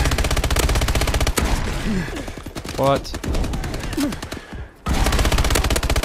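Shotgun blasts in Call of Duty: Advanced Warfare, loud bursts of gunfire at the start and end with heavy battle noise and brief speech in between.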